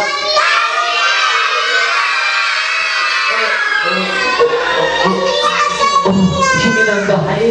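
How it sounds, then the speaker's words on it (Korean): A crowd of young children shouts together in loud, overlapping unison at a daycare puppet show, calling out to wake the black rabbit puppet Kkami, the cheering bursts rising and falling for several seconds. "우리 다같이 까미야 일어나 하고 소리쳐주세요"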